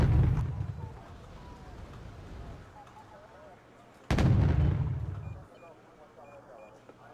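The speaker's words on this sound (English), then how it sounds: "ADATs shoot down an Mi-24D" Anti-air fire from ADAT vehicles brings down an Mi-24D helicopter in Wargame: AirLand Battle. Two heavy, booming bursts of gunfire sound about four seconds apart, each fading into a low rumble.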